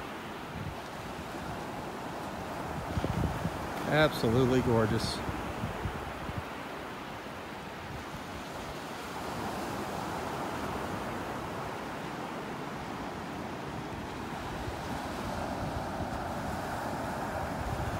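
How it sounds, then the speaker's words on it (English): Waves breaking on a beach in North Naples, Florida, a steady wash of surf under gusty wind noise on the microphone, with a brief spoken comment partway through. "the waves breaking there, the little birds in the foreground"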